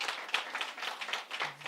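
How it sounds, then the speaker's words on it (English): An audience claps at the Department of Basic Education launch of the Xitsonga and Tshivenda reading benchmarks, a brief, fairly faint burst of scattered applause. "A round of applause, please."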